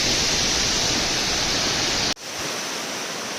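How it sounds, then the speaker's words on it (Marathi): Large waterfall at Savatkada near Rajapur in the Konkan, a close, loud, steady roar of falling water that cuts out abruptly for a moment and then returns slightly softer. "खूपच मोठा असा धबधबा आहे"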